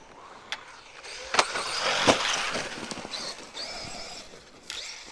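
Traxxas Maxx 4S RC car revving under throttle during a park bash, a whining electric motor rising and falling with a few sharp knocks and thumps, heard at moderate distance without speech.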